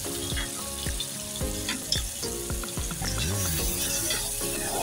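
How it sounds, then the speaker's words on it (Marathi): Pomfret, the halwa fish, frying in hot oil after being flipped, with a loud continuous sizzle and crackle close by and an occasional light clink, no voices. "आता ही बाजू पण आपली चांगली फ्राय होऊ दे."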